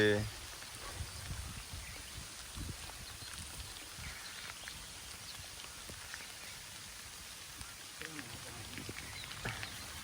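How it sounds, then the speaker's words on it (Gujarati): Rain falling outdoors in a rural spot makes a faint, steady patter with scattered drop ticks, while people talk over it throughout. "તો ભાઈ અત્યારે વરસાદ ચાલુ જ છે"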